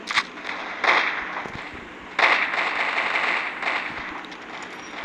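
Sharp gunshots crack in short bursts in a first-person shooter video game, a few loud reports spaced over several seconds against a steady noisy background.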